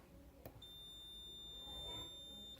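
A single high, steady continuity beep from a multimeter testing an Electrolux circuit board sounds for about two seconds over a quiet background, with a brief tap before it.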